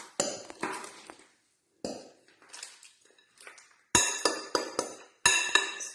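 Metal utensil scraping and knocking against a bowl as heavy crumble mixture is tipped into a baking tray, a series of sharp close clinks and scrapes in short bursts separated by pauses.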